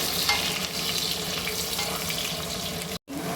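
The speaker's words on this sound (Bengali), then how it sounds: "আলুটা একটু ভাজি, তারপরে মশলাটা দেবো।" Potatoes frying in a pan, a steady close hiss of oil running without a break, dropping out for a brief instant near the end before resuming.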